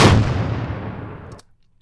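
A big, sharp explosion sound effect from a sound library hits with a loud, close crack, then its rumble fades steadily for over a second before cutting off into near silence.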